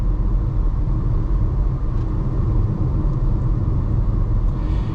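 Steady low road rumble with tire and wind noise inside a 2025 Chevy Trax 1RS with a 6-speed transmission while driving, continuous and even throughout with no talking.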